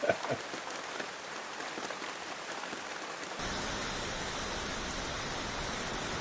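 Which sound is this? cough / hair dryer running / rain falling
rain falling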